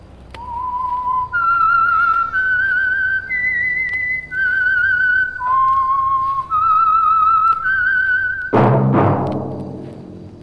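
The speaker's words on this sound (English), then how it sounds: "That whistle is your signal for the Signal Oil Program, The Whistler." A melodic human whistle carries a slow, wavering tune in a series of sustained notes as the signal for the Signal Oil radio program The Whistler, clear and close, ending with a louder burst of sound.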